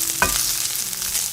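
Fried onions and bacon stirred in a pan, one quick scrape at the start over a bright, steady sizzle, close and with no voices.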